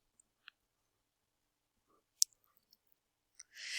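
A single sharp mouse click opening a link, quiet and close in an otherwise silent room, with a few faint ticks around it and a soft burst of noise at the end.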